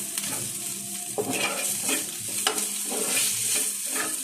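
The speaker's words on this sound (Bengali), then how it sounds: "পেঁয়াজটা একটু ব্রাউন হতেই আমি সসেসটা দিয়ে দিলাম" Sausages fry with browned onions in a pan, a steady sizzle running throughout while a utensil scrapes and stirs in several distinct strokes, close and fairly loud.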